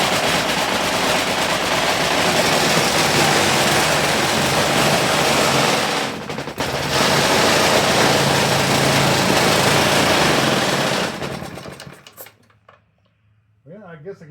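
An old 1950s Briggs & Stratton lawn mower engine, a scrapyard find, runs loud and raspy with a sputtering high-pitched roar, briefly dipping then picking up again before cutting off abruptly into near silence with a voice afterward.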